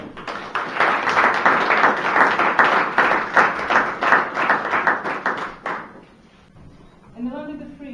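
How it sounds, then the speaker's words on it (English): Applause from an audience at a documentary screening, a sustained full round of clapping from a crowd that fades out, followed by a voice starting to speak. "Would you please give them a big round of applause?"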